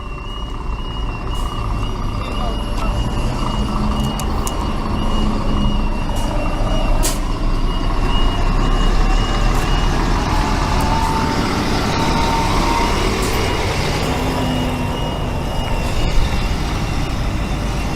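A truck's reversing beeper sounds repeatedly over steady road traffic and engine rumble outdoors in the UK, the beeping continuous and moderately loud throughout.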